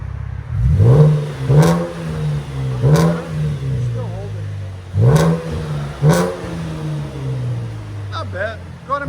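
A 2015 Chevy Camaro with a 3.6L V6 and HKS exhaust revs in neutral in a few sharp, rising blips that fall back to a low idle rumble, with people talking nearby.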